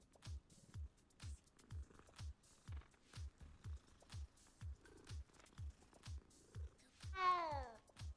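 A cat in the video game Hogwarts Legacy purrs in a slow, regular rhythm of low pulses, then lets out one clear rising meow near the end, all soft and close.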